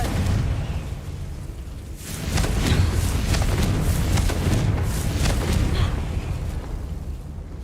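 Confringo spell blasts in a Harry Potter video game: a sustained roar of booming, crackling bursts that swells after the first couple of seconds and keeps rumbling loudly throughout.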